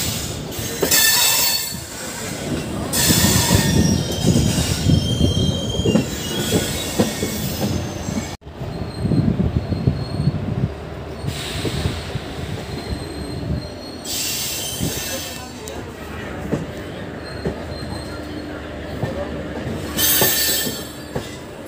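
Passenger train on the line from Lucknow toward Bareilly, with loud metallic wheel squeal in repeated bursts over a rumbling, clattering run of railcars, close and continuous with no talk.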